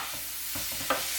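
Rapini fries in a pan with oil and garlic, a steady close sizzle broken by short stirring scrapes and tosses.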